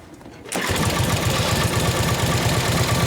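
A Harley-Davidson Panhead motorcycle engine, kick-started during a carburetor tune-up, catches after half a second and then runs loud and close with a steady, loping pulse and no talk over it.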